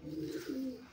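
A pigeon gives a soft, close coo, two low throaty notes in quick succession, faint and alone with no talk.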